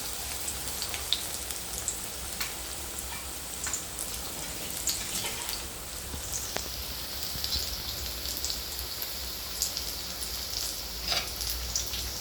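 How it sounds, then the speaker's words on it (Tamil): Dal vada deep-frying in hot oil gives off a steady, close crackling sizzle with scattered pops, continuous throughout and with no voices. "மெதுவாக அழகாக 2 பக்கமும் திருப்பி போட்டு அழகாக பொரிச்சு எடுக்கணும்"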